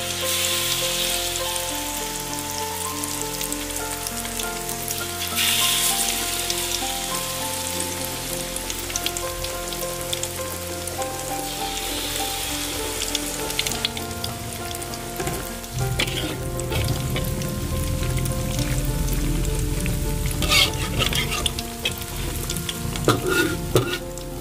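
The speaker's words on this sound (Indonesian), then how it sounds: "jika minyaknya sudah panas, kecilkan api ya, agar saat menggoreng bakwannya bisa matang merata" Continuous crackling sizzle of corn fritter batter frying in hot oil, steady and close, with occasional louder spatters and no talking.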